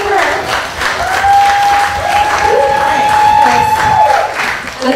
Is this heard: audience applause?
yes